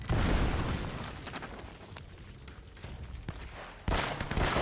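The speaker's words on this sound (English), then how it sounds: "What's up with them throwing grenades?" Grenade blasts and scattered gunfire in Uncharted: Drake's Fortune, loud bursts opening and closing a stretch of lower crackling combat noise, with no talk.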